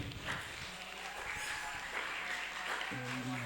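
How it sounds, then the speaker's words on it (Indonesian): A seminar audience at an Indonesian santri national day event breaks into scattered applause, a busy patter of hands at moderate volume with a brief sustained tone near the end. "Tepuk tangan untuk yang bertanya tadi."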